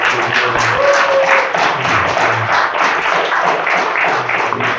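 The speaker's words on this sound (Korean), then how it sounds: "세 분 한번 박수 한번 보내주시죠." Steady applause from an audience at a Korean talk concert on politics and religion, continuous clapping for three speakers filling the room at an even level throughout, with no speech.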